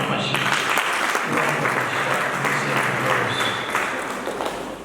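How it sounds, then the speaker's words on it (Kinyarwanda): A congregation applauds during a church service, a dense, sustained round of clapping close by that slowly tapers off, with a voice speaking over it. "Atwongere dukomere Imana amashyi."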